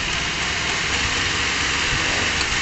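A car engine, just repaired after a delayed throttle response and shaking, revs steadily with a broad, dense roar that stays constant and fairly loud throughout, with no voices.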